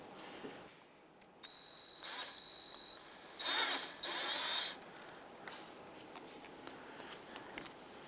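A power tool spins an 11mm socket to loosen the front brake hose bolt on a 2008-2013 Nissan Rogue caliper, giving short, close whirring bursts with a ratcheting edge between quiet stretches.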